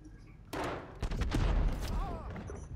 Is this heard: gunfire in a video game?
yes